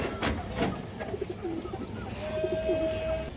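Pigeons coo in a series of soft, throaty calls close by, with a couple of sharp knocks or flaps early on and a brief whistle-like tone near the end.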